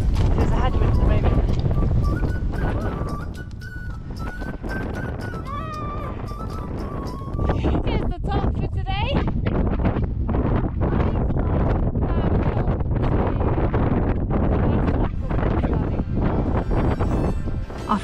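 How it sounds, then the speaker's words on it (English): Strong headwind on a mountain pass in Finnish Lapland, met while bikepacking, buffets the microphone in heavy low rumbling gusts that run through the whole stretch, with some faint tonal sounds above. "There's a headwind at the moment."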